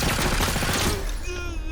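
Rapid gunfire from a shooting video game crackles in a loud, dense burst that ends abruptly, followed by a short ringing tail.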